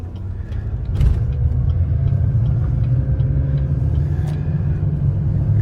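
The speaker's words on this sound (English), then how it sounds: "Hit the brakes in this thing, there's no vibrations, it drives smooth going down the road" Lifted 2017 GMC 3500 Denali 6x6 truck with a 4-inch lift, 22-inch Fuel wheels and 35-inch tires driving down the road, a loud, steady low rumble from inside the cab with a brief knock near the start.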